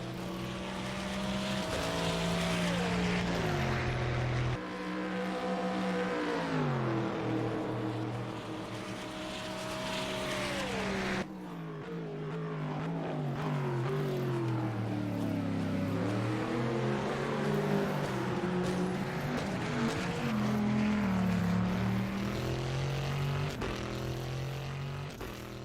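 An LMP2 race car engine roars steadily in a racing video game, its pitch climbing through gears and dropping on upshifts and braking, loud and continuous throughout.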